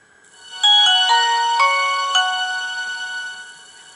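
A Nokia 2310 mobile phone (RM-189) plays its startup tone after the end key is held: a short, bright melodic chime of several clear notes that rings loudly, then fades over a few seconds with no talking.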